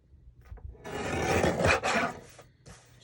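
A paper trimmer blade slides through a card background in one continuous rasping cut lasting about two seconds, close and fairly loud, with faint handling noises before and after.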